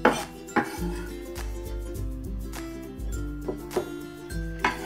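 A kitchen knife minces garlic on a board with a run of sharp, irregular chopping knocks close at hand and fairly loud over a few seconds, without talk.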